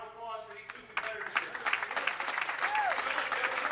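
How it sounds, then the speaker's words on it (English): Audience applause at the 2017 USBC Senior Masters bowling stepladder final, rising after a second into steady sustained clapping from a crowd, moderately loud, with an announcer's voice over the start. "How about a round of applause for these two competitors"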